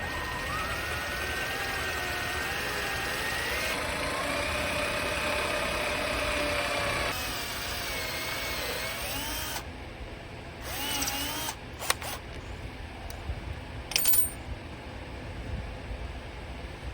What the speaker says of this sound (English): I'll get a long drill bit and drill in on both sides.